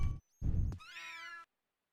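A cat meows in the King's Quest V video game: a single clear, drawn-out meow with rising and falling pitch, following two short blunt game sounds, then silence.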